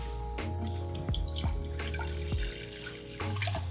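Water poured into a hot pan for cooking quinoa, a steady splashing stream with a few sharp clinks and drips, fairly close and with no speech.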